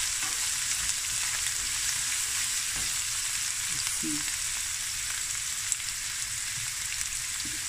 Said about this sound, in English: I'm gonna fry this.